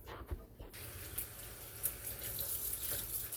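Hot water runs steadily from a tap into a sink for cleaning action figures, a soft continuous hiss with faint splashing after a few brief clicks at the start.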